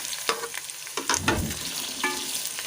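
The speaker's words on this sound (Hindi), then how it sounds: "आलू को फ्राई कर लूँगी।" Finely chopped potatoes frying with onions in a hot pan give a steady close sizzle, with a few scraping stirs and clinks of a spoon and no one talking.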